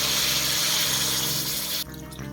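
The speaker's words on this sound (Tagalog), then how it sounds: "halo-haluin sa kalalagyan ng dalawang tasang tubig para naman magkaroon ito ng moisture" Water from two cups being poured onto pork in a cooking pot for a pork steak recipe, a steady close splashing and gurgling stream that drops off near the end.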